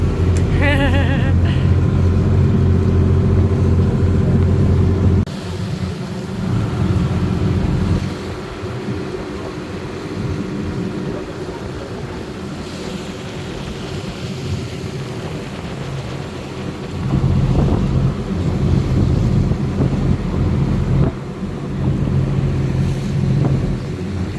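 Steady low engine drone of a small river ferry boat on the River Orwell, with a constant hum, mixed with wind buffeting and water rush, loud and close throughout, dipping briefly then returning.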